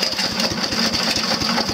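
Small wood chipper engine running after being started, a steady close mid-pitched mechanical drone with a rapid pulsing beat and faint high whine, loud and alone.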